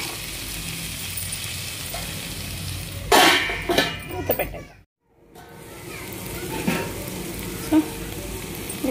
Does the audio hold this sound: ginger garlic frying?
yes